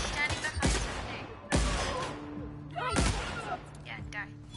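Bursts of video game gunfire crack out in three separate volleys, sharp and loud at the start, roughly one and a half seconds apart, each trailing into a brief rattle.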